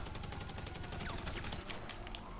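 Rapid gunfire in GTA 5 Online, a fast, steady fusillade of quiet, distant shots rattling in a continuous rhythm throughout.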